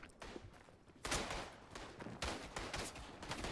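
Rapid bursts of gunfire from the World War I video game Tannenberg, a dense fusillade of overlapping shots that grows louder after the first second and rattles on continuously without pause.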